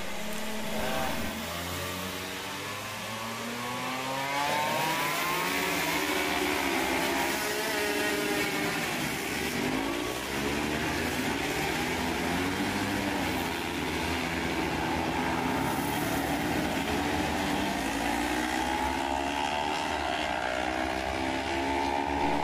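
A Yamaha TZ250 racing motorcycle at a race, its two-stroke engine a steady loud drone with rising and falling revs as it passes, continuous throughout with no talk.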